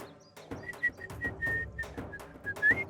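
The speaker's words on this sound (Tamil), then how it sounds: "இங்க அடிச்ச விசில் எல்லாம் போதும்." A person whistles a series of short, bright notes and a rising trill, close and clear, over rustling and a low background of movement in bushes.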